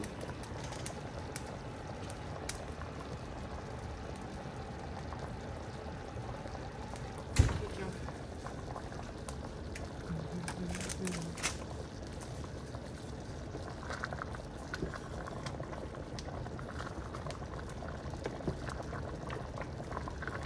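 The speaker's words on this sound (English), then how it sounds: "You can hear it bubbling." Creamy tomato soup with pork sausage bubbles quietly in a pot as it heats, a soft continuous burble with one sharp knock midway and faint voices around it.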